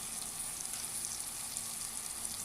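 Vegetables for pav bhaji fry steadily in a pan, giving a continuous even hiss and crackle with no pauses and no talking.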